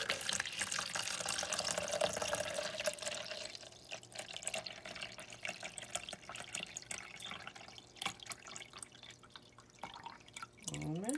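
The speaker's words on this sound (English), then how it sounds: "let's measure out our first amount here of water." Water is measured out and poured for handmade charcoal and tea tree soap, a faint, steady trickle with light drips in a quiet room.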